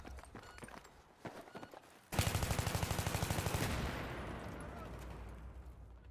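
Automatic gunfire in Battlefield 3 on PS3 bursts in suddenly after quieter shuffling and voices, a fast rattling stream of close, loud shots for about a second and a half, then fading into a lingering wash of battle noise.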